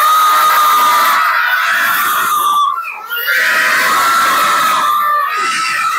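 Children shout and scream noisily in a loud, continuous burst, their high voices overlapping like an excited crowd, with a brief dip in the middle before the shouting surges again.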